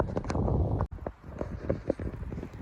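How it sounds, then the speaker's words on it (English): Gusty wind buffets the microphone outdoors at Rose Hill Cemetery in Macon, a steady rough rumble with uneven swells throughout. "It's crazy how bad windy it is out here."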